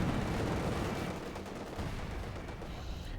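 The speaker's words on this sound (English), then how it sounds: "Panther 4 lands a shot that bounces though." Tank shell striking and glancing off armor during a Company of Heroes 2 battle between a Panther and Soviet armor, heard as dense, rumbling explosive noise of distant gunfire and impacts filling the whole stretch without speech.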